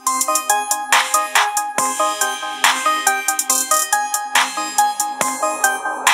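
A bright, repeating electronic melody plays loudly from a phone through an Ahuja NBA25DW portable neckband PA speaker, with a steady bouncy rhythm and clear tonal notes throughout.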